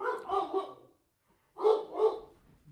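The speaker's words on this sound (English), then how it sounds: "Dog barking." A dog barks nearby in two short bursts of two or three sharp barks each, with a silent pause between them and no voices.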